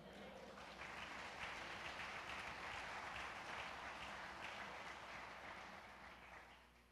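A church congregation claps together in sustained, dense applause that swells, holds steady for several seconds and then tapers off, heard from within the room.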